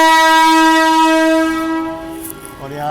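Indian Railways Dhauli Express departing a busy junction station on the Kolkata to Puri route, its horn blaring loud and close in one long sustained tone that fades as the train moves off.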